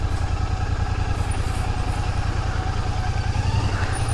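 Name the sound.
Honda CB 350 motorcycle engine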